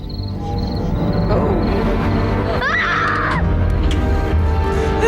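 A little girl screams in The Iron Giant, the 1999 animated movie: one shrill, wavering cry rises over a steady bed of night insects and background noise.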